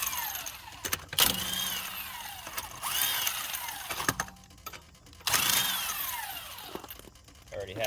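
Power tool or ratchet loosening the wheel on a jacked-up 2018 Dodge Durango, in several bursts of whirring and clicking separated by short pauses, close by, with no speech during the bursts.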